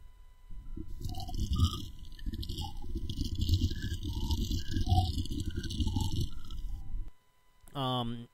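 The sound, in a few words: blowing bubbles in iced coffee through a straw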